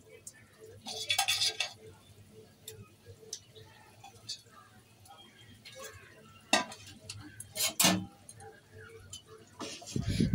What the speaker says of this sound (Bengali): এরপর একে একে ভাজা মাছগুলো ছেড়ে দেবো ঝোলে।